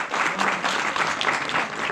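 Audience clapping fills a seminar hall at a university design-thinking talk, a steady dense patter of many hands lasting a couple of seconds with no talk over it.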